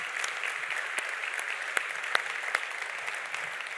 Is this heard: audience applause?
yes